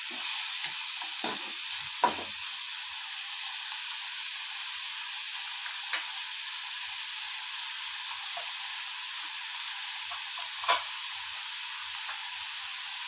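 Finely chopped onions frying in a pan for paratha, a steady close sizzle and hiss with a few soft clinks of stirring, no talk.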